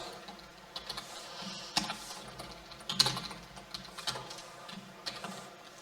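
Computer keyboard typing HTML code, faint scattered key taps in uneven clusters, quiet and close with no speech.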